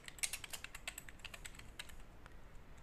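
Quiet, rapid keystrokes on a computer keyboard, clustered in the first two seconds, then thinning to a few scattered taps.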